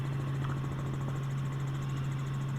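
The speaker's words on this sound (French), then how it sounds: "c'est un hélicoptère Robinson R44" A Robinson R44 helicopter engine drones steadily in flight, a constant low hum with a whirring mechanical buzz layered over it.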